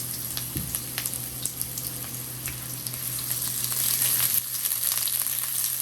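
Onions fry in a preheated wok with avocado oil, giving a continuous sizzle that grows slightly louder toward the end, with light stirring clicks and a low background hum.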